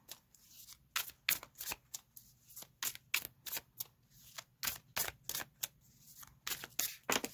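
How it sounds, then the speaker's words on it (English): Tarot cards being laid out one by one, a string of soft snapping and flicking taps at an uneven pace, close but quiet, with no voice. "I'm going to lay cards right over top of it."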